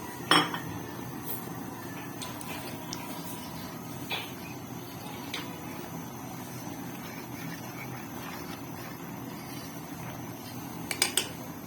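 Dry pasta goes into a pot of boiling water with a few sharp clatters and clinks of metal and utensils, set against a steady low rumble of boiling water and stove noise.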